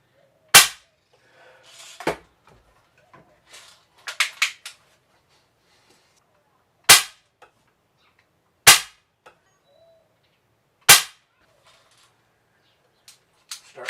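A Crosman 760 air rifle shooting BBs at a target gives several sharp, loud cracks spaced a few seconds apart. Faint clicks and handling noises fall between shots.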